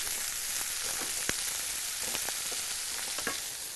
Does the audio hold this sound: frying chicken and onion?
yes